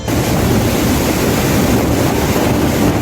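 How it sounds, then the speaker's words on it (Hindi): Floodwater gushing and falling from a dam in Morbi, Gujarat, a loud continuous roar of rushing water with heavy wind buffeting, steady and unbroken throughout. "डैम से गिरते पानी की आवाज लोगों के बदन में सिहरन पैदा कर रही है"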